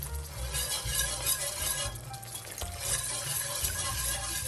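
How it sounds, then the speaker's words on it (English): A whisk stirs milk into a sauce in a pan, giving a continuous soft swishing with faint metallic clinks against the pan, steady and fairly quiet throughout. "we have to continuously whisk"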